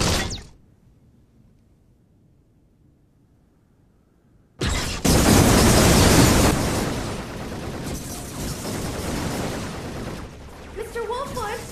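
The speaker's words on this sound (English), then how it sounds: "I hear gunfire!" Gunfire in an animated show erupts as a sudden loud, dense barrage after a quiet stretch, roaring continuously with voices faintly present near the end.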